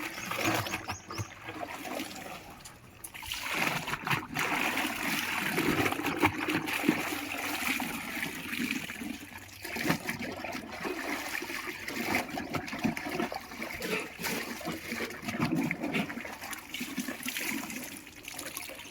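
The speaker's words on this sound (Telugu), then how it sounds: "దీన్ని మనం మూడు బకెట్ నీళ్ళలో మంచిగా జాడించేద్దాం" Washed white clothes are rinsed by hand in buckets of water, giving continuous sloshing, splashing and dripping, close and moderately loud, with swells as the fabric is plunged and lifted.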